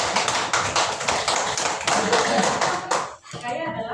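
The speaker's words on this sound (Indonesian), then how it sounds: "Oke, tepuk tangan." A classroom group claps hands in quick, dense bursts of sharp slaps for about three seconds, then the clapping cuts off and a voice starts speaking.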